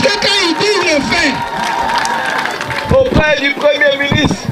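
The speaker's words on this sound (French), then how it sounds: "Est-ce qu'on peut applaudir ça?" At an ambulance handover ceremony at a health centre in Gogné, Lakota, a crowd applauds and cheers, with voices calling out over the clapping and a brief louder surge near the end.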